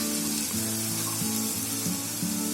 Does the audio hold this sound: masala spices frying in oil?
yes